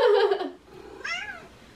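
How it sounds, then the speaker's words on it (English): A house cat meows twice indoors, first a loud, drawn-out meow and then a shorter, softer one, close by with no talking over it. "that was my cat"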